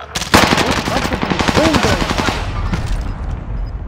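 Rapid automatic gunfire in Call of Duty: Modern Warfare bursts in loud and close, a dense continuous stream of shots running from start to finish while players shout over it.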